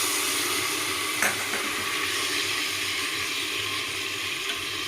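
Tomatoes sauté in a pan of fried onion and garlic for a mushroom biryani, giving a loud, steady, close sizzle that continues without a break.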